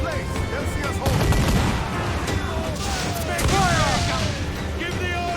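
Ship cannons fire in a naval battle in Assassin's Creed IV: Black Flag, heavy booms and rolling volleys of gunfire crowding together, with crew voices shouting over the barrage.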